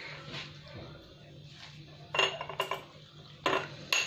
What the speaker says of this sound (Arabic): هاد المعلقه كبيره ديال النشا ذوبناها في هاد الكاس ديال الحليب